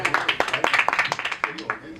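An audience at a film promotion event for Mere Husband Ki Biwi claps in scattered, sharp bursts, with some loud close claps standing out. Voices can be heard talking underneath.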